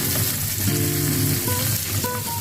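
Egg-filled eggplant fries in an open, uncovered pan with a dense, loud sizzle throughout, along with a few faint tonal squeaks, close up and with no talking.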